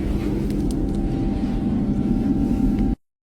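A private jet aircraft gives off a continuous roaring rumble with a steady whining tone on top, holding level for about three seconds before cutting off abruptly.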